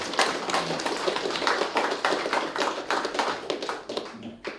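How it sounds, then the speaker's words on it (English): A chamber full of people claps together during a parliamentary session, a dense, steady run of hand claps that carries on for several seconds with no talk over it. "You may give him one clap, Honorable."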